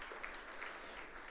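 An audience at a French-language Christian sermon applauds steadily, a soft, distant wash of clapping with no voices.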